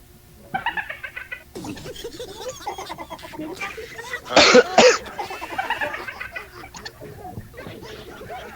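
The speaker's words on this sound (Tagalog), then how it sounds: "Saglit lang, ubo ako eh." Close, loud coughing in a tight burst of several harsh hacks partway through, with a voice talking before and after.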